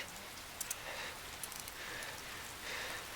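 Steady rain from a movie scene hisses faintly and evenly in the background, with a few brief louder patters and drops breaking through the soft, continuous wash.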